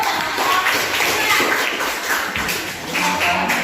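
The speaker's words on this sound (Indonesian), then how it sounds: "Tepuk tangan dulu." Steady applause from a group of people, continuous dense clapping at a constant level throughout.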